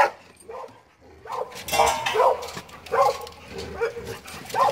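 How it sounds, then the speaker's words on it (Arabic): Several short, sharp barks and yips from a Caucasian shepherd dog come in bursts over a few seconds, fairly close, with brief pauses between them. "هذا الكلب"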